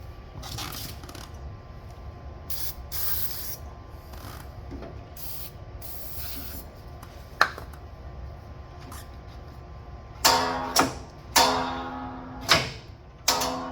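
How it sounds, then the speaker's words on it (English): Lubricant sprayed onto a spring on a John Deere E2102 snowthrower during a belt replacement: a steady hiss runs under clicks and clanks of metal parts, and several short sharp spray bursts come near the end. "let me get some lubricant down there and make sure that that moves up and down freely"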